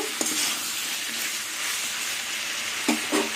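Ridge gourd and potato pieces fry in a pan with a constant loud sizzle and a few scraping stirs near the start and end, no one speaking.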